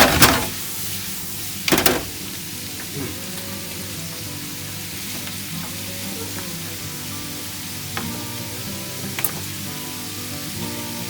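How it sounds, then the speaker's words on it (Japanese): Yakisoba noodles, vegetables and sauce stir-fried in a hot pan give off a continuous sizzle, broken by a couple of sharp clanks of utensils against the pan near the start and again later. "ソースを入れて、野菜と、麺というのを炒めていきます"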